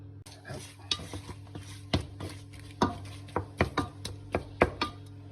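Grey shrimp toast in a little oil in a hot pan, stirred and pressed with a utensil, so irregular scraping knocks sit over a soft sizzle, close and fairly loud, with no talking.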